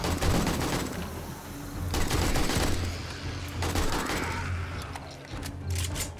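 A gun in the video game 7 Days to Die fires in loud, rapid bursts of shots with repeated volleys, the firing close and dense over a steady background hum.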